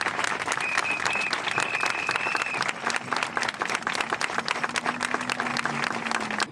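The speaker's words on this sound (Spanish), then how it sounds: "Un aplauso para ellos, por favor, que se lo merecen." Dense, sustained applause from a large audience honoring public healthcare workers, steady and loud throughout, with a faint whistle-like tone drifting through the clapping.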